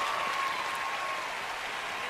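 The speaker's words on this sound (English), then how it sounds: "Give a big round of applause for Angie." Dense, even applause from a live audience after a magic card trick, filling the whole stretch at steady volume with no break.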